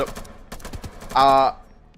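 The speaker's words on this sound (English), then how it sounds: "I don't know if you're hearing that as well, but someone's just been shot." Video game gunfire heard as a rapid burst of loud, harsh shots lasting about a third of a second, following quieter clattering in-game sounds.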